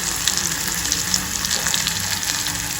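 Vegetables softening in a pan on the stove give off a steady, close sizzle and crackle for a few seconds, dense and continuous with small popping bursts and no voices.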